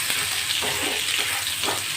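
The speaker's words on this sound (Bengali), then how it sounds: "এবারে ওই তেলের মধ্যে এবারে মশলাটা দিয়ে দেব। হালকা করে ভেজে নেব মশলাটা" Mustard spice paste hisses and sputters in hot oil for a fish tel jhal, a dense close sizzle with soft stirring scrapes, no voices.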